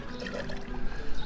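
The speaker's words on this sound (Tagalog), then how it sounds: "Tapos dinidilig ko na lang dito sa mga dahon ng kamote." Plain water splashes onto sweet potato leaves in a vegetable garden, a short burst of close, wet pouring and spattering with an uneven, fluttering flow.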